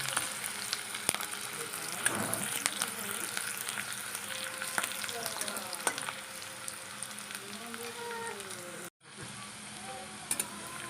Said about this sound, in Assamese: অলপ ৰঙচুৱা হোৱালৈকে ভাজি লৈছোঁ।